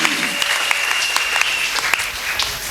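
A church wedding congregation bursts into applause for the Lord, a dense, steady wash of clapping hands with scattered sharper claps standing out, filling the room throughout.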